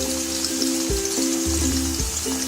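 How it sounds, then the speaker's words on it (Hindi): Sliced onions fry in hot oil over medium heat for chicken dum biryani, giving a dense, continuous close-up sizzle with soft bubbling pops throughout. "ऑयल को गर्म करने रखा है। अब हम इसमें ऑनियन को फ्राई कर देते हैं।"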